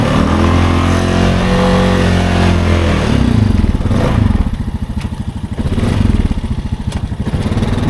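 Honda Rubicon DCT ATV on 30-inch Aztec tires, engine loud and close, holding a steady drone before dropping into lower, lumpy revs as it auto-downshifts, then surging and easing again.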